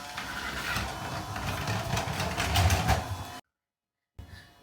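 A child runs what may be a toy vacuum cleaner indoors, giving a close, buzzing mechanical whir for a few seconds before it cuts off abruptly, then a brief burst of sound resumes.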